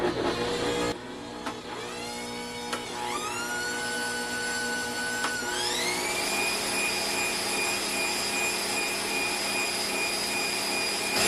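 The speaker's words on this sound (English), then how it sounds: "I'm going to just let those continue to whisk together, and they're going to get a little bit fluffy" An electric whisk beats butter and cream cheese together in a bowl, a steady close motor whine that climbs in pitch as the speed rises and then holds level.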